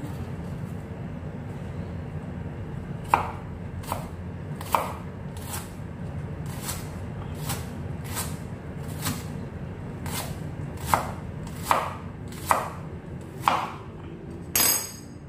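Onion and paprika are chopped into small pieces on a board, a dozen or so crisp knife taps spaced unevenly over a low steady background hum, growing a little quicker toward the end.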